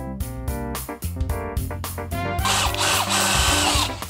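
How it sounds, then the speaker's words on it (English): A power drill whirs in short, stuttering bursts, then settles into a longer, louder grinding run as it bites into material while building a backyard bike park road gap, close by. "that new drill makes this way easier"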